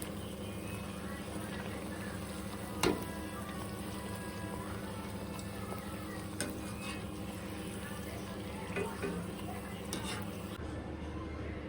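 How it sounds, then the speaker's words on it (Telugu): Jaggery appalu frying in hot oil make a steady, even sizzle that runs continuously throughout, with a few faint clinks of a utensil. "ఆయిల్ హీట్ అయ్యాక ఈ విధంగా వేసుకోవాలి ఈ విధంగా పొంగాలండి రెండో వైపు కూడా కాల్చుకోవాలి"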